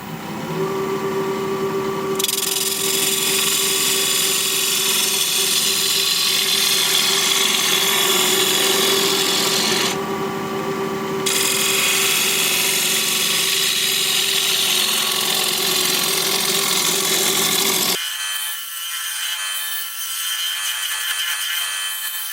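Wood lathe spinning steadily while the edge of a turned bowl is bevelled, a continuous loud motor hum with a broad cutting hiss that briefly drops out twice, then stops near the end leaving only a faint high tone.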